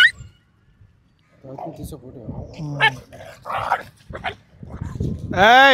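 Several street dogs bark, yip and growl in short overlapping bursts at close range, mixed with a person talking, ending in a loud run of barking.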